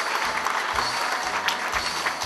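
Steady, dense applause from the delegates fills the hall at a Korean labor union federation's annual convention as an award plaque is presented, with no voices rising above the clapping.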